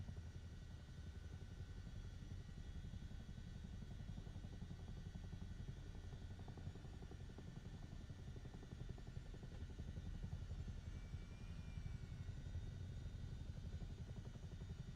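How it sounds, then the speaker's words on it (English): A Chinook twin-rotor helicopter in Microsoft Flight Simulator 2024 drones on steadily with a dense low rotor rumble and a faint high whine, unbroken and even in level for the whole stretch. "if a Chinook was doing this"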